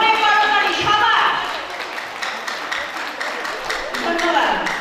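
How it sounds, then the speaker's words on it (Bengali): Applause from an audience at a school reunion, loud and dense at first, then thinning into scattered claps with a voice over the crowd. "জোরে করতালি সবার"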